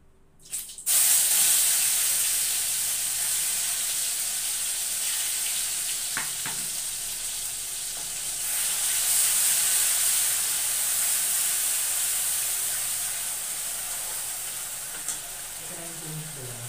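Masala paste of ground green chilli, ginger, onion and garlic sizzles and fries steadily in a hot pan, a continuous close hiss with brief stirring clatters and no talking.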